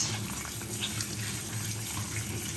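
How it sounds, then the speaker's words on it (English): Tap water runs steadily into a kitchen sink as raw chicken wings are rinsed, a close, continuous splashing gush with no talk. "We're gonna go ahead and give this a quick rinse."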